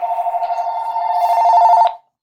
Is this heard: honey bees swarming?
no